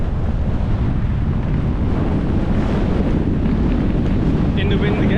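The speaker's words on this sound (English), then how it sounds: "In the wind again." Strong wind buffeting the microphone on an exposed hilltop in the Stretton hills, a loud continuous low roar throughout with a faint voice near the end.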